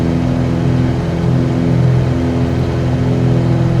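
The engine of a Cessna 182RG in Microsoft Flight Simulator 2020, flying along a Gulf of Mexico coastline, giving a loud, steady droning hum with no change in pitch and no voices.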